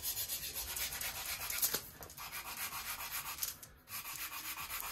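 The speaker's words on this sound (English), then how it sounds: "I'm sanding cross grain this way, and then I swap up and go that way." A plywood sheet on a model P-40E Warhawk flap is hand-sanded, a faint, steady rhythmic rubbing of back-and-forth strokes with one brief pause and no talk.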